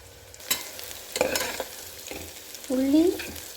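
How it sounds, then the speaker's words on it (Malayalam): Onion and green chillies sauté in hot oil with a soft sizzle, broken by several scraping stirs of a spatula against the pan and a brief squeaky scrape near the end, heard up close. "എണ്ണയും പച്ചമുളകും നല്ലോണം വഴറ്റണം"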